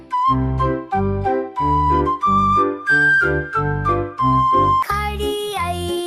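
A children's rhyme sung to music imitates a train whistle, a bright sung tune over steady rhythmic beats, with a rising whistle-like tone near the end.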